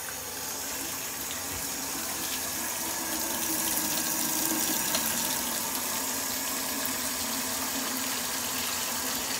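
Tap water runs steadily into a sink, a constant hissing splash with no pauses, fairly close and moderately loud.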